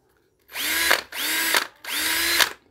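A freshly cleaned cordless screwdriver drill runs in three short bursts, each a close whirring spin-up with brief pauses between.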